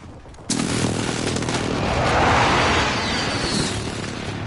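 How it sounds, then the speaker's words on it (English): Airstrike explosions in a video game: a sudden heavy boom followed by a long rumbling roll of blasts and debris, loud and close, with no talking. "Oh, yeah. Airstrike. Get down."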